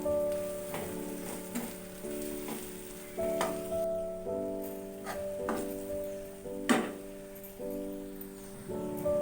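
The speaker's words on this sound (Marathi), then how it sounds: "लाल तिखट मसाला दीड चमचा चांगला परतून घ्यायचा" Red chili masala frying in hot oil in a pan, a steady close sizzle with repeated scraping stirs and a sharper clack of the spoon near the middle.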